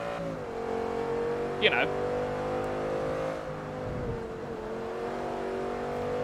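A Lamborghini engine in Forza Motorsport 3 holds a steady, droning note, rising and falling slightly, with a brief sharp blip partway through and someone talking over it.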